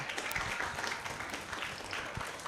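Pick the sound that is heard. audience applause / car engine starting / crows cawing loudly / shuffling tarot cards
audience applause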